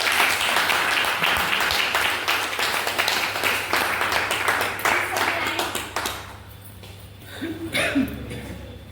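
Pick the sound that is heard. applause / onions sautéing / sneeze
applause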